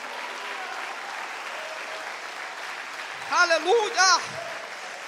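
Congregation clapping through a Portuguese-language church worship service, a steady broadband wash of applause under a preacher's voice, with a loud shout of praise breaking out near the end.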